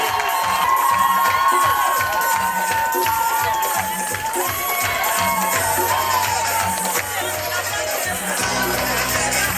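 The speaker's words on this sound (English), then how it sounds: "Give him a round of applause for the gentleman." A crowd at an awards ceremony cheers and applauds loudly and continuously, with shouts and whoops rising over steady clapping.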